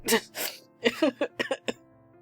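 A solid cough: two throaty bursts followed by a quick run of shorter hacking coughs and throat-clearing sounds, close and alone in an otherwise quiet room.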